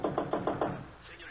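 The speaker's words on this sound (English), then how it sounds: "I rapped sharply." Five sharp raps on a door as a sound effect in a 1975 radio drama, quick and evenly spaced, then fading into a muffled, low-fidelity background.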